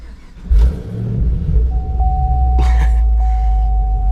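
A modified 2013 Camaro ZL1 V8 rated at 670 horsepower turns over and fires with a sudden loud burst, then settles into a deep, rumbling idle, close by with no talk, and a steady high chime rings underneath.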